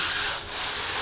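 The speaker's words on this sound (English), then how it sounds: "Literally one pass of that sanding block will take care of that." A sanding block rubbed over drywall edges in a new home, a steady close scraping hiss that runs the full second with a brief dip near the middle.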